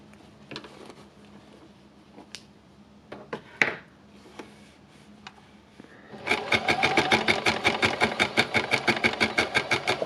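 A sewing machine stitches through several layers of fabric. A few scattered clicks and handling sounds come first, then a fast, steady run of needle strokes starts up midway and continues loud and close.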